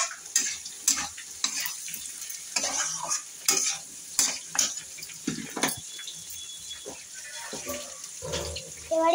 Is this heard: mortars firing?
no